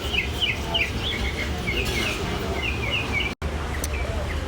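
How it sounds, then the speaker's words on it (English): Several birds chirp and sing in repeated short phrases outdoors on a warm day near the Gulfport, Mississippi beaches, over a steady murmur of background noise, briefly cut off once by a dropout near the end. "You can hear the birds singing."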